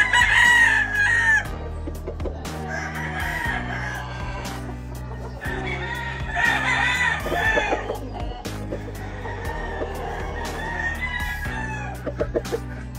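A Kelso rooster crows loudly several times while hens cluck in the background, close by and with no talking.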